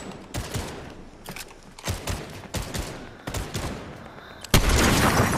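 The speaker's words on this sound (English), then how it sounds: "There's shots behind, too." Rapid gunfire in a PlayStation shooter, repeated bursts of shots in quick clusters, loud and close, ending in a sustained heavy burst.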